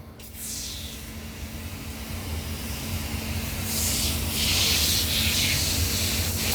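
409 cleaner is sprayed from a trigger bottle as a soft, steady hiss over a low background hum, with stronger spray bursts in the second half.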